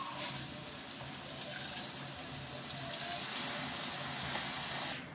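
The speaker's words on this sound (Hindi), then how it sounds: "अब मैं इसमें चावल ऐड कर रहा हूँ।" Soaked basmati rice tipped into a pot of water for chana pulao, a steady close pouring and splashing wash of liquid running the whole time with no voices.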